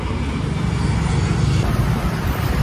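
Road traffic in Chennai gives a loud, continuous low rumble as a vehicle goes by close at hand, with no voices.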